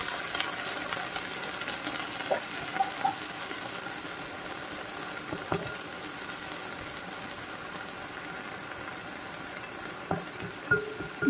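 Yakisoba noodles with Spam and vegetables fry in a hot pan, giving a steady close sizzle with a few sharp clicks from stirring and no voices.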